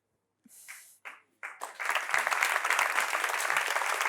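Studio audience applause on a French talk show, starting with a few scattered claps and swelling into steady, dense clapping that holds loudly to the end.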